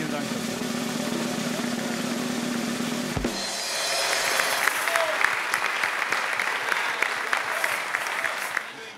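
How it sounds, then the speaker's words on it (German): Banquet guests applaud Bayern Munich's team and coach at a German Cup victory celebration, a dense sustained round of clapping that swells after a few seconds of speech and continues steadily to the end. "das verdient jeden Applaus"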